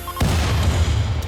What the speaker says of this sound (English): Now that explosion's pretty helpful too.